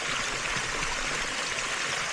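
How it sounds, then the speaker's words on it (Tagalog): Stream water flows steadily at a treehouse resort in Coron, Palawan, a continuous bright rushing and trickling that stays even and fairly close, with no voices over it. "Yung tubig pa lang nito, marirelax ka na eh."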